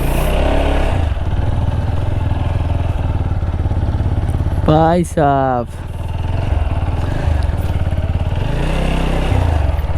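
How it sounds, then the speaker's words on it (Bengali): A motorcycle rides into a jungle track, its engine a steady mid-pitched drone throughout, briefly swelling in a revving rise midway, with someone speaking over it. "জঙ্গলের ভিতর ফাইনালি আমাদের বাইকটা ঢুকাতে পারলাম"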